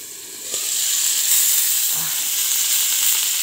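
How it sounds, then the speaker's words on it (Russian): Fish fries in a hot pan, giving a steady close hiss and sizzle of oil with a soft bump partway through. "Рыбку жарим."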